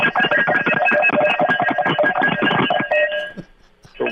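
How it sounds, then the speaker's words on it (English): A Mississippi State cowbell is clanged rapidly and continuously at close range, a loud, bright, jangling metallic rattle that stops after about three seconds, followed by a few faint knocks. "Okay, so it's a cowbell."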